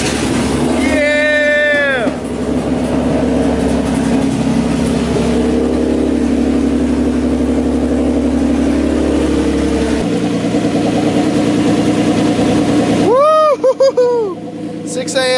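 A drift car engine cranks, catches and settles into a loud, rough idle close by, with a couple of sharp revs rising toward the end.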